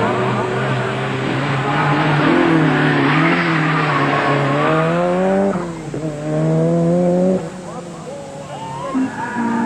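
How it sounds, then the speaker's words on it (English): Jimmy McRae's race-bred Ford Sierra Cosworth rally car at Mondello Park circuit in the 1987 Circuit of Ireland Rally, its engine revving and rising in pitch through gear changes, loud and close, with a voice talking over it. "As Jimmy McRae waits on the line in his race-bred Cosworth"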